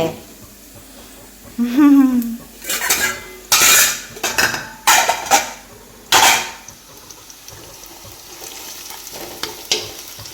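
Dishes, pots and metal utensils clatter and clank in bursts of sharp knocks, close and loud, with a brief voice among the clattering.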